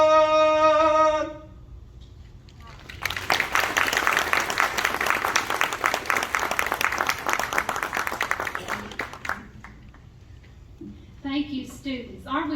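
A crowd at a high school dedication ceremony claps steadily for several seconds, loud and dense, after a sung note fades; a voice speaks briefly as the applause dies down.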